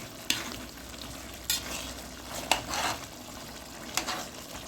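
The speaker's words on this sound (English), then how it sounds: "I will let my mutton curry cook. I'll just stir it." Mutton curry with peas and potatoes stirred in a cooking pot, four distinct spoon scrapes and knocks over a soft simmering sizzle, fairly quiet and with no speech.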